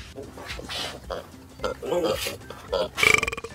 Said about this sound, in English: Oh, he burped.